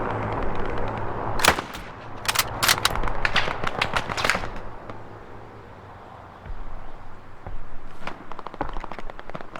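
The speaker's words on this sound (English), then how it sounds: "Oh, you got an MG fire on you?" Machine gun fire in the video game Hell Let Loose, several sharp bursts of rapid shots with loud cracks, a lull, then another string of shots at the end.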